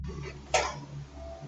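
A single short cough nearby, faint and isolated against a quiet, humming background.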